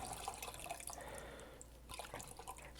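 Cold, chilled Folgers coffee poured from a big tub into a cup, a faint liquid trickle and splash heard briefly without talk over it.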